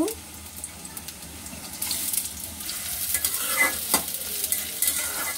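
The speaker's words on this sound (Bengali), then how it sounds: "এখন রসুন আর পেঁয়াজ কুচি দেব।" Chopped garlic and onion start frying in oil in a wok for a bitter gourd stir-fry; a soft sizzle builds steadily with light scraping and stirring, no talk over it.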